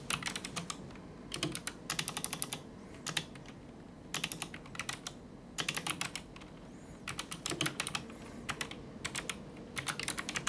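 Computer keyboard typing into a medical imaging report program, close and quiet, coming in quick bursts of clicks separated by short pauses.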